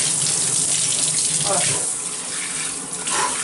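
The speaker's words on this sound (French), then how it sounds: "je passe à la douche froide complètement." A cold shower runs as a dense, constant spray of water close by, filling the whole clip, while a voice speaks briefly over it.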